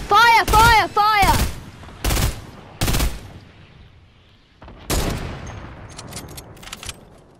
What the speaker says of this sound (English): I'm just gonna send an RPG over. Fire, fire, fire!